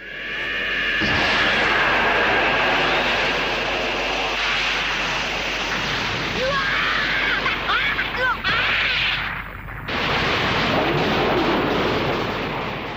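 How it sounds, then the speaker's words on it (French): A loud, sustained energy-beam clash from Dragon Ball, a Kamehameha against Vegeta's Galick Gun, roars with sweeping whines and crackling bursts, cutting off abruptly before resuming. "ce clash, mais alors divin, du Kamehameha full Kaioken contre le canon Garrule de Vegeta"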